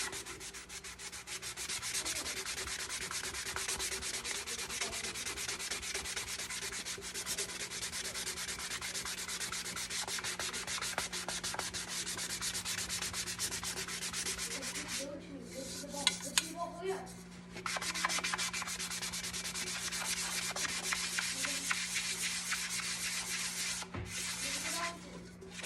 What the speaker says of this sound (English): I'm pretty sure this sanding sponge is a 60 grit.